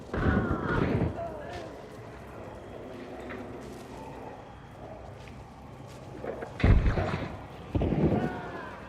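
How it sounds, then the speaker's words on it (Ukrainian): Muffled booming gunfire bursts from the game Hunt: Showdown 1896, a few heavy blasts spaced apart, with people talking quietly in between. "Вони стріляються з кимось."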